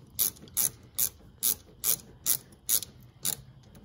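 A ratchet tightens a 10 mm bolt on the battery terminal of a Chevy Impala, giving eight short, evenly spaced bursts of sharp clicking, close and clear against a quiet background.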